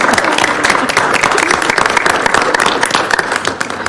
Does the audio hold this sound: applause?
yes